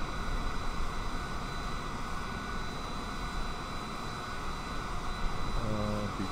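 Jetliner engines in Microsoft Flight Simulator 2020 hold a steady, loud broadband roar as throttle is nudged up, with a faint rising tone near the end.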